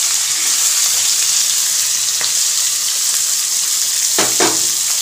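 Onion dropped into hot oil in a home kitchen pan, sizzling loudly and steadily throughout, with a couple of brief sharp clinks or stirs near the end and no talking.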